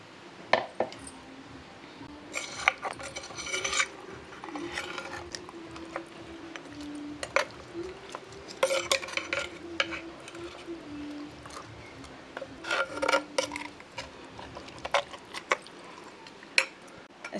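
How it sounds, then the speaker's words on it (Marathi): Masala is stirred into pork in a pot for Goan pork, making irregular scraping clinks of a utensil against the metal and soft wet squelches, fairly close and moderately loud with pauses between strokes. "आतां मसाला घालता तितूंक मिक्स करता"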